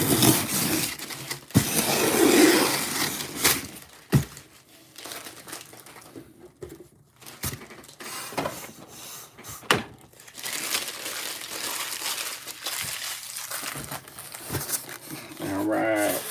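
Protective foam packaging rustles and crinkles as it is pulled off a toy garbage truck, with close, irregular crackling bursts and tearing, under intermittent talk.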